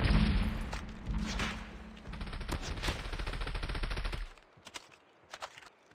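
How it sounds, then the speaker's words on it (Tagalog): Video game gunfire rattles in rapid automatic bursts with heavy thuds, then stops abruptly, leaving a few scattered distant shots and clicks. "Putok mo lang dito."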